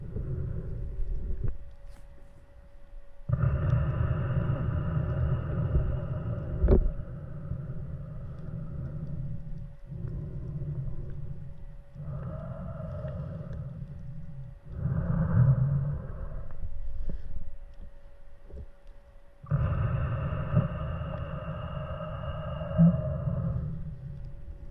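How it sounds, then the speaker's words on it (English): Underwater while paddle-board spearfishing, a diver releases air in long muffled bubbling rumbles that come in several bursts, with deep low roar between quieter gaps. "You could hear there, I did it again, released all my air."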